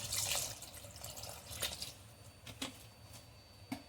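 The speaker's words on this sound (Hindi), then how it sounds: "पानी अपने हिसाब से डाल लीजिए।" Water is added to a simmering chicken 65 gravy while cooking, giving soft splashes and drips over a steady low background hiss, with a few sharper spatters toward the end.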